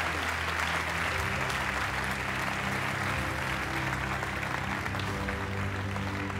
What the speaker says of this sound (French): vous pouvez les applaudir, évidemment, les copains à la noix